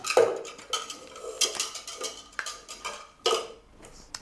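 Hand whisk clinking around a bowl as orange juice, whole milk and cream are combined for a Spanish orange flan, giving a quick run of bright metallic taps and scrapes at close range with no talk.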